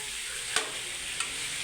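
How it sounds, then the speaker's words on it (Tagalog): Pork and beef kaldereta is stirred in a cooking pan, a steady sizzle and simmer with two quick scraping clacks of the spoon. "gagawin na natin yung ating pork beef kaldereta"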